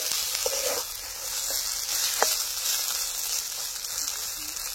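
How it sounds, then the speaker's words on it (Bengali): Village-style banana flower paste frying in oil, with a steady, even sizzle running throughout and a few soft taps and clicks of stirring close by. "মোচা বাটা তেলের মধ্যে দিয়ে নাড়াচাড়া করতে করতে অনেকটাই রান্না হয়ে গেছে"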